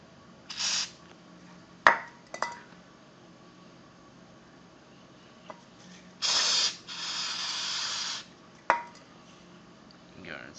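Several short hissing bursts of carburetor cleaner spray on a weed eater carburetor, one sustained for nearly two seconds, separated by quiet gaps and a few sharp clicks.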